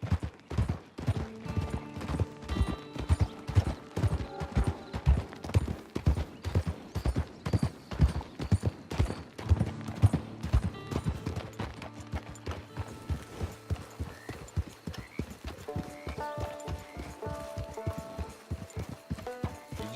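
Horse hooves clip-clop in a steady walking rhythm in the Western video game Red Dead Redemption, close and prominent, with occasional mechanical clinks and a faint neigh and no speech.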